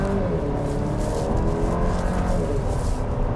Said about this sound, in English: We're gonna do a quick 0 to 60.